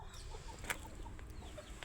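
A chicken gives a short sharp cluck amid faint scattered clucking from a farmyard flock, quiet and close, with no talk.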